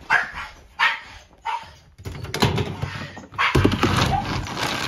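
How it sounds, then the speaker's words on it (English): A pet dog barks indoors in the morning: three sharp separate barks, then louder mixed household clatter and rustling over the closing seconds. "Shh, we don't bark."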